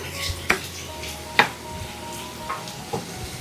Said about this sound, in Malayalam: ഇതിലേക്ക് നമ്മൾ വഴറ്റി എടുത്ത് വെച്ചിരിക്കുന്ന പാവയ്ക്ക അങ്ങ് ചേർത്ത് കൊടുക്കാം. ഒന്ന് ഇളക്കി കൊടുക്കാം.